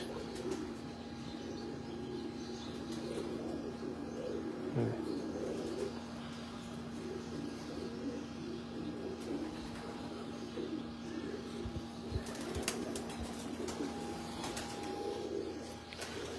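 Pigeons on a Lahore rooftop coo softly and continuously at a moderate distance, a low bubbling murmur from several birds with faint chirps and an occasional brief flutter.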